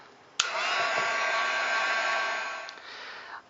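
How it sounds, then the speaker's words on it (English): A heat tool blows hot air to melt enamel powder on a snowflake brooch, switching on with a click into a steady close whooshing roar for about two seconds before cutting off. "You might have to heat it a little bit more just to get the powder to melt some more"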